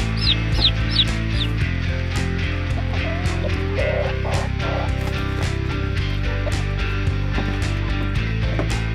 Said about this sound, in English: So this barred rock chick right here likes to act as the mama hen.